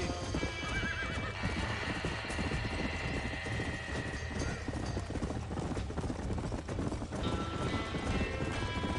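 Panicked horses whinny and neigh repeatedly over clattering hooves inside a burning barn in Red Dead Redemption 2, a dense, loud, continuous din with shouting voices mixed in.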